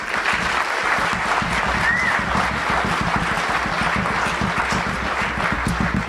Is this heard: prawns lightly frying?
no